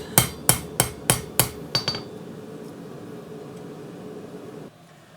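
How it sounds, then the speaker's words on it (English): A hammer lands six or seven sharp, ringing planishing strikes on a forged integral knife in quick, even succession, each clanging with a metallic ring, then quiet shop hum follows. "Planishing strikes."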